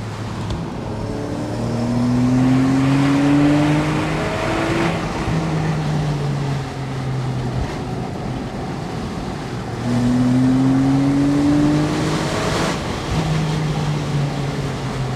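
A Porsche 911 997 Carrera 4S flat-six drives on small winding roads, the engine climbing through the revs and shifting in two rising pulls with a brief lift between, loud from inside the car.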